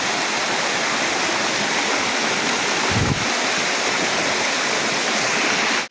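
A river stream fed by Curug Kutu waterfall rushes in a continuous, loud broadband roar close by, unbroken from start to finish, with a brief low thump near the middle and no speech.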